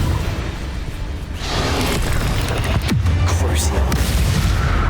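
A Confringo blasting spell explodes in Hogwarts Legacy, with a loud booming burst and a whooshing flare over dense, continuous game noise and effects.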